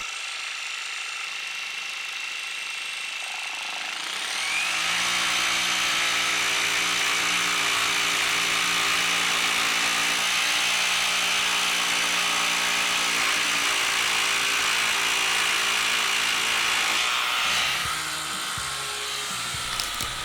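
A Milwaukee M18 Fuel barrel grip jigsaw (2737B-20) cutting 2x6 wood: the saw starts and revs up to a loud, steady buzzing rattle as the blade chops through the board, then winds down near the end, close, no talking.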